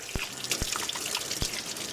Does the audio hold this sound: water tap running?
yes